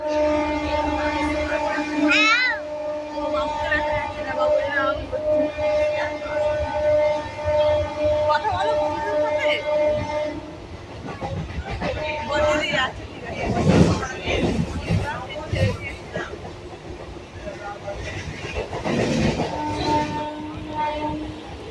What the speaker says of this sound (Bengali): আমরা এখন স্টেশনে চলে এসেছি উলেবেড়িয়া